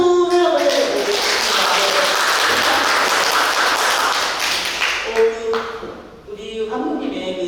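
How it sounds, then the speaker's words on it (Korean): An audience applauds at a Q&A session of the 74th Small Film Festival in 2023, loud sustained clapping from a hall crowd that swells for several seconds and then thins out as a voice returns. "박수, 엄청 큰 박수를 한번 쳐드리고 싶거든요. 박수를 한번 해주세요"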